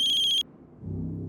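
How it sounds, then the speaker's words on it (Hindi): A landline telephone ringing in a house, a loud electronic trill pulsing for under half a second and then cut off abruptly, followed by low background murmur. "सनी के राजकोट वाले घर की लैंडलाइन से फोन है।"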